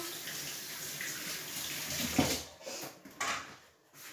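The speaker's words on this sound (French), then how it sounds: "maintenant, je vais me rincer les mains." Hands rinsed under a running kitchen tap, a steady close stream of water that breaks up into splashing and trickling, then cuts off near the end.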